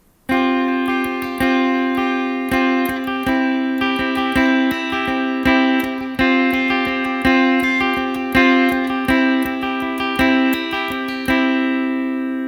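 An acoustic guitar strums a chord over and over in an even rhythm, each strum ringing out clearly, shifting from a suspended sus4 chord and settling back to the major chord.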